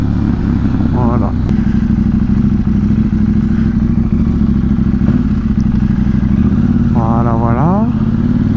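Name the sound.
motorcycle downshifting with up-and-down quickshifter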